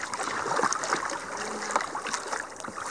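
Wing paddle strokes on a kayak crossing open sea water, with soft splashes and dribbling water repeating in an uneven rhythm close by, over a steady wash of moving water.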